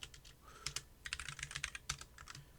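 Quiet, close keystrokes on a computer keyboard patter in quick irregular bursts, a steady run of light clicks with no voices.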